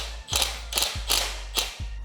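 A new carburetor being fitted back onto a brush cutter, with four separate metallic clicks and clunks of parts seating, each sharp and close, over a low steady hum in the background.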